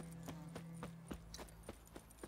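A horse's hooves strike in a steady, evenly spaced rhythm in The Witcher 3, about eight thuds over a low steady hum, quiet and close.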